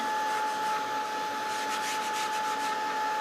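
A steady electric heat gun hums and whooshes continuously at moderate level, with a faint tonal whine throughout.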